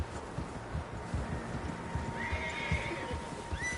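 Horses in the Red Dead Redemption video game: hooves clip-clop in a steady low rhythm while one horse neighs with rising whinnies near the end, fairly quiet and with no talk.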